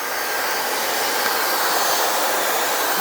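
A Dyson hair dryer fitted with a diffuser attachment blows steadily, a close, loud, even whoosh with no breaks and no talking.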